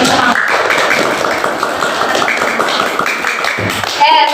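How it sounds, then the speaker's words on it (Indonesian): Students in a classroom applaud a group presentation with a dense, loud burst of clapping. Voices and cheers run through it. "Tepuk tangan lagi yang paling semangat."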